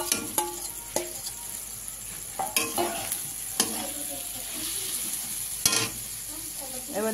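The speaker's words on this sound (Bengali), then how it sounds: "এবার দিয়ে দিচ্ছি শুটকি মাছটাকে" Dried fish (shutki) sizzles in a hot pan with spices, a steady frying hiss broken by irregular scraping and clacking as a spatula stirs it, close and moderately loud.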